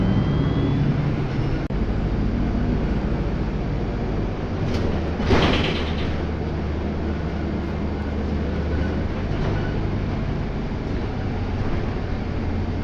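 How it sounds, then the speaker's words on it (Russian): The doors of a Minsk city bus on route 263 slide shut with a short mechanical hiss and thump over the steady rumble of the idling bus interior. "Осторожно, двери зачиняются."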